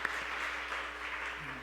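A church congregation claps in welcome for a visiting missionary during a Sunday service, a steady wash of applause filling the whole moment at moderate distance with no voices over it.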